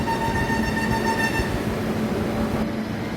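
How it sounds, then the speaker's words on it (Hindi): A Vande Sadharan Express train passes at Tikekarwadi near Solapur: a steady, loud rumble of wheels on rail with a faint tonal whine, fading slightly toward the end. "आज आपको देखने वाला है फास्ट वंदे जनसाधारण एक्सप्रेस"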